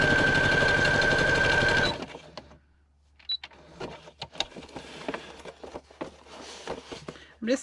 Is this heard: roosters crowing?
no